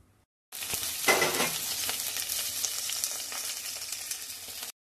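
Chopped vegetables fry in a pan with very little oil, starting abruptly with a bright sizzle and crackle that holds steady, with occasional clicks of stirring, then cuts off.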